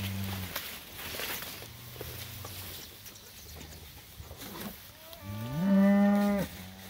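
A cow in a grazing mob moos near and loud toward the end, one drawn-out harmonic call following quieter low lowing and scattered shuffling of the herd in an open field.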